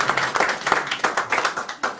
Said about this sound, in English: And we hope it's worth that clap.